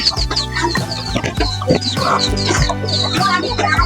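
Chickens and ducks cluck and squawk repeatedly at feeding time, a close, busy flock noise with overlapping calls throughout.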